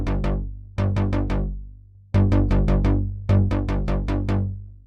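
Music with a low shelf cut trimming the boomy low end, repeated plucked or struck tones in quick bursts of four or five notes, each group decaying before the next, close and clean with no voices.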